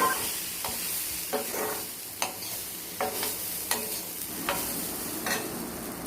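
Chili powder and oil fry over a low flame with a constant soft sizzle, broken by repeated spoon taps and scrapes at a fairly even pace.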